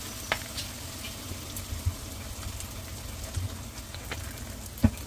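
Ginamos, a salted fish paste, frying with pork in plenty of oil, giving a steady low crackle and sizzle with a few sharp pops, close and fairly quiet, with no voices.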